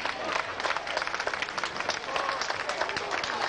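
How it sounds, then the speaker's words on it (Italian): An audience at a local Pro Loco gathering in Alatri gives a big round of applause, a dense, sustained wash of clapping with crowd noise, fairly loud and steady. "lo salutiamo con un grosso applauso"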